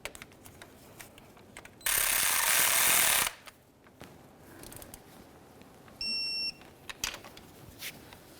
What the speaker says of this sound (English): We'll bottom this out and then we'll torque it to 177 inch-pounds.